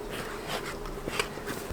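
Honey bees in a nucleus hive being packed for sale give off a low, continuous buzz close by, with a few sharper knocks and handling bumps near the end.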